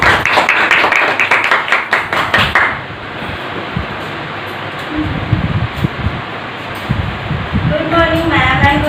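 A group claps at a school Independence Day celebration for a student, with sharp, rapid hand claps for the first few seconds before they stop, followed by rustling, shuffling and a voice starting to speak.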